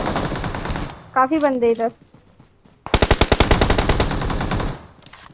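Rapid M4 rifle fire in a multiplayer shooting game rattles out as a fast, loud string of closely spaced shots lasting under two seconds, preceded by an excited voice speaking.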